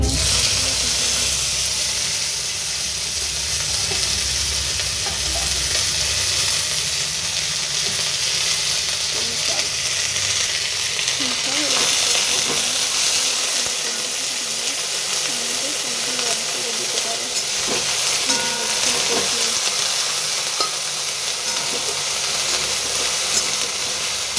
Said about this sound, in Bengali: আমি জিরে আর লঙ্কা ভেজে নিচ্ছি